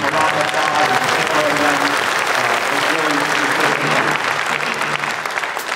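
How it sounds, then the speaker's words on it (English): Enthusiastic applause from a high school pops concert audience, a loud, dense roar of clapping with crowd noise mixed in, steady from start to finish. "please thank them for letting us do this and give them a lot of applause"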